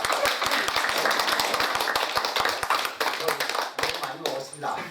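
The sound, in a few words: audience applause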